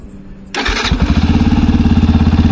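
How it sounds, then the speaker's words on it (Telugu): A 2024 Yamaha FZS V4 150cc motorcycle engine cranks and catches, then settles into a steady, close, pulsing idle. "లైటింగ్ ఆన్ చేయాలంటే ఇంజన్ స్టార్ట్ చేయాల్సిందే"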